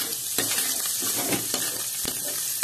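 Garlic frying in butter in a pan for a Filipino sautéed vegetable dish, giving a steady close sizzle broken by a few sharp stirring scrapes.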